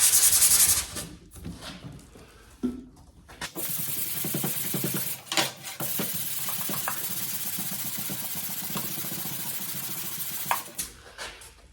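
Wood putty on scrap-wood coasters is sanded by hand in rapid back-and-forth strokes, giving a loud, close, gritty rubbing that pulses steadily with brief pauses.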